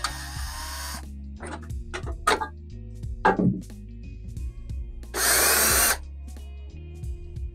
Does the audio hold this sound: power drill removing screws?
yes